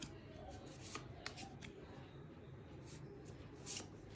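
Tarot cards shuffled and drawn by hand, a soft continuous riffling and sliding of cards close by with a few sharper flicks, over a faint background hum.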